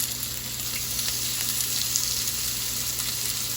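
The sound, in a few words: salmon kabobs sizzling on an oiled stove grill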